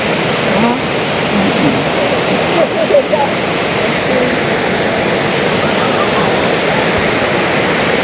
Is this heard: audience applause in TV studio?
no